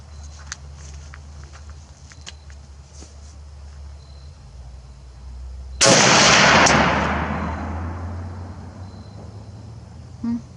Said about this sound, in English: the gun is shooting fantastic